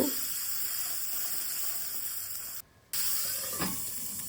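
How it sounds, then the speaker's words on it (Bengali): Peas stirred and frying in a pan while cooking matar paneer, a steady close sizzle and hiss with a brief scrape of stirring, cut by a short dropout, no talking. "এই মটরগুলোকে দিয়ে ভালো করে নেড়ে চেড়ে কষিয়ে নেব।"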